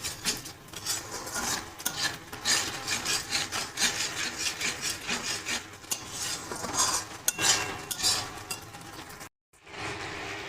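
A spatula scrapes and rubs around a pan while masala is sautéed, with loud, repeated rasping strokes and occasional clinks, a brief pause near the end, no talk.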